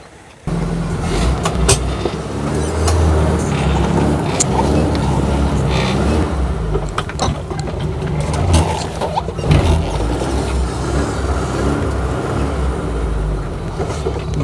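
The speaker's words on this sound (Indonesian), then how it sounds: "Itu kita sekarang coba test drive." A Suzuki Katana jeep runs on a test drive with a steady, close engine hum and rumble. Road and wind noise sit underneath, with occasional knocks and clatter throughout.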